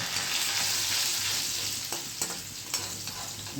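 Steady, loud sizzle of curry leaves frying in hot oil, a continuous crackling hiss with a few sharper pops near the end.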